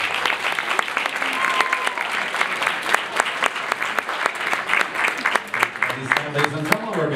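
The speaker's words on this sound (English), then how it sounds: "let's have a big round of applause, please, for Mr. Eugene Sheng, brother of the bride" Wedding guests applaud the bride's brother with sustained, close clapping from a crowd. A few voices and cheers rise briefly over it near the end.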